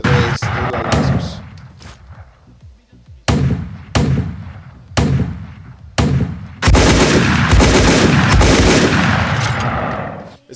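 Synthetic video game gunshots: several sharp, loud blasts spaced a second or so apart, then a longer burst of rapid fire that fades out.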